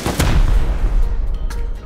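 An AK rifle firing in the game Rust, a loud close shot with a heavy boom and a second crack trailing after, decaying echo.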